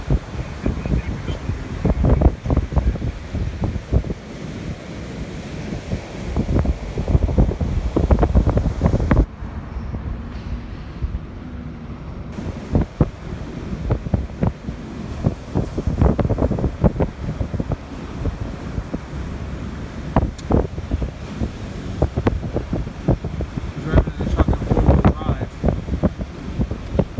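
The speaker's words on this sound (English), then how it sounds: "Looking at this rough, very extremely rough ocean." Rough, churning ocean surf rolls in at a beach while steady gusts of wind buffet the microphone, a dense continuous roar with surges throughout and a brief lull partway.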